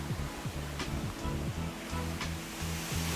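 Water rushes steadily at a waterfall in Japan, a loud, continuous broadband roar heard close up, with a low, regular pulsing underneath and no talking.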